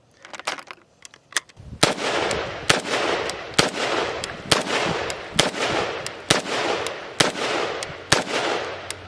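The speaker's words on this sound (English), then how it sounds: "Guys, it's an AK-47. It functions, it shoots, it was very reliable." Romanian CGR AK-47 rifle firing steel case ammunition at an outdoor range, a string of loud sharp semi-auto shots at a fairly regular pace after a few faint clicks, each crack followed by a brief echoing tail.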